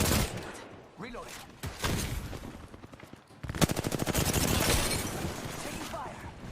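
Gunfire in Apex Legends: scattered shots and a short burst at first, then a long, rapid, evenly spaced automatic volley that is loud and close, mixed with a player's voice and game sounds.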